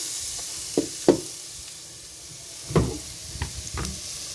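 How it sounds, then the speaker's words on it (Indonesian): Chopped garlic and shallots sauté in a pan with a soft continuous sizzle, broken by a few sharp stirring knocks and scrapes, close and fairly quiet. "Ditumis hingga kecoklatan."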